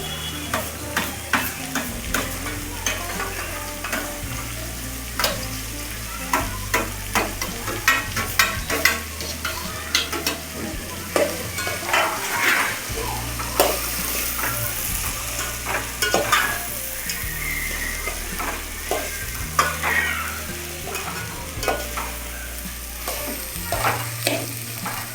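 Corn kernels fry in an oil tempering for Gujarati makai shevdo, giving a constant loud sizzle with frequent scraping stirs against the pan over a low steady tonal hum.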